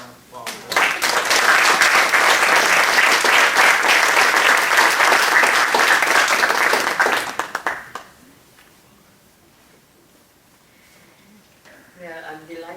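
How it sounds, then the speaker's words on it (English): Warm applause from an evening event audience welcoming a speaker, loud and dense for about seven seconds before fading out, followed by quiet, distant talk. "So please give her a warm round of applause"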